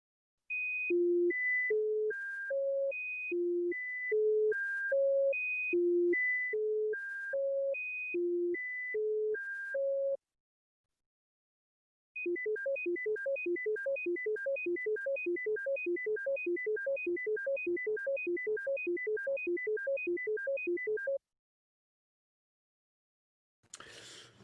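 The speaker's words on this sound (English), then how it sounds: "You will hear a cycle consisting of 3 high tones interleaved with 3 low ones. First it is played slowly, then quickly." A demonstration cycle of three high pure tones interleaved with three low ones, first played slowly as a steady repeating pattern, then sped up into a rapid run of alternating beeps, clean and alone with no talk.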